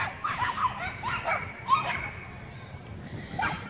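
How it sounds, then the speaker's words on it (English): A gang of Chihuahuas barks and yips in scattered bursts, with short whimpers mixed in, the small dogs sounding moderately close against a steady background hum. "Look at these Chihuahuas."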